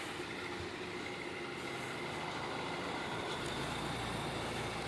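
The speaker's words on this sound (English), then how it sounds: "The car is driving, and that is a good thing indeed." A Mazda Miata on the move, giving a steady, loud broadband rumble of engine and road noise that holds constant throughout with no talking.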